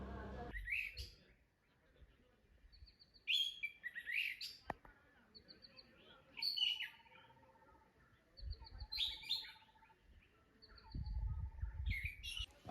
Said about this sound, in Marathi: किल्ल्यावरच्या घनदाट जंगलामधून निरनिळ्या पक्ष्यांचे मधुर आवाज कानावरती पडत होते